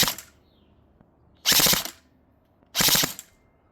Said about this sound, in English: That was a burst firing test.